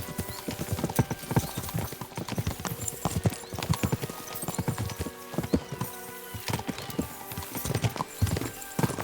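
Hooves clatter in a fast, uneven galloping rhythm, with several horses pounding along continuously at close range, in the video game Kingdom Come: Deliverance II.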